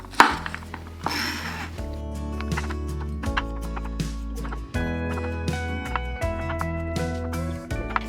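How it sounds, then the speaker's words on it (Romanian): A knife chops mushroom stems on a cutting board in a home kitchen, making quick irregular knocks and taps, close up and fairly loud, with a few brief pauses between bursts. "Ok, tăiem și cotorul."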